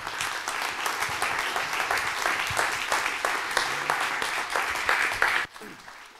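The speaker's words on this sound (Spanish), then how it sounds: "les pido un muy caluroso aplauso a quien nos reúne y nos convoca el día de hoy" A warm, steady round of audience applause greets Nacho Méndez at the start of a Mexican song program, continuing evenly for over five seconds before cutting off.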